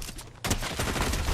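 Pistol and shotgun fire in a video game rings out in a dense, sustained burst: a brief quieter lead-in, then loud, close, rapid reports running back to back with no voice on top.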